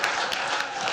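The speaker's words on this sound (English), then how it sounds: "Give him a round of applause." Audience applause at WordCamp Orange County, a WordPress conference, a brief burst of dense clapping filling the room, steady and fairly loud throughout.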